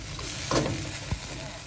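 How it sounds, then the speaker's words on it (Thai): Shallots stir-fry in a pan for a salad dressing, giving a continuous close sizzle with a soft scrape of stirring and one brief knock of a utensil. No voices are heard. "แล้วก็ผัดหอม"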